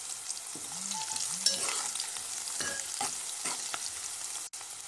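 Onions frying in hot oil in a pan already holding cloves and green chillies, a steady close sizzle broken by stirring scrapes and a few clinks, with no talking.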